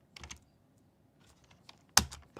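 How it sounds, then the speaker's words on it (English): Typing on a computer keyboard in a quiet room, short bursts of clicky keystrokes separated by pauses, ending with a sharp louder key strike; no talking. "bloody keyboard again."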